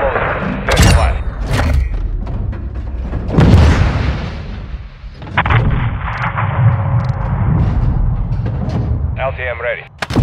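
An AC-130 gunship firing in the video game Call of Duty Modern Warfare II, with loud heavy cannon booms and thuds, rolling blasts and a whining tone near the end, under radio-style voices.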